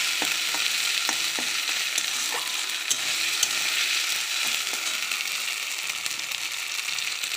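Spice paste with ground whole cumin frying in a pan for a Bengali potato chicken curry, a steady loud sizzle with scattered crackles and light scraping stirs throughout, no voices.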